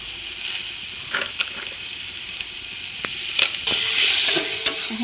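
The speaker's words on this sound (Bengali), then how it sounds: "আর একটু নেড়ে নিক, ভালো করে নেড়ে নিতে হবে।" Chicken curry with tomato being stirred in a frying pan at home, a steady close sizzle with scraping strokes of the spoon against the pan and occasional louder clatters.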